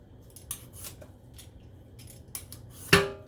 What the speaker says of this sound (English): all I'm doing is slicing it back and forth